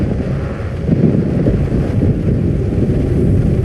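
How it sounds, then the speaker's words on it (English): A level 3 thunderstorm in a video game with 60 mph wind gusts and quarter-size hail, a loud, low, rumbling roar of wind that stays continuous and heavy throughout. "Level 3 thunderstorm. 60 mile per hour wind gusts and quarter-size hail."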